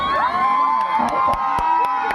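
A school audience at an annual day event cheers and shouts loudly, children's voices rising in sustained high-pitched whoops and yells, with a few sharp claps cutting through near the end.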